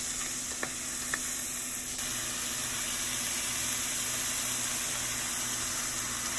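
Chopped broccoli and celery stir-fried for chow mein, giving a continuous hissing sizzle in the pan with a couple of small clicks early on, steady and close, no talking.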